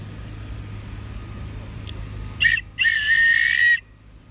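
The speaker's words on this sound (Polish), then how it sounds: "Ej, chyba mam gwizdek." A shrill whistle from a life jacket is blown twice, a short toot followed by a longer sustained blast, loud and close over low background rumble.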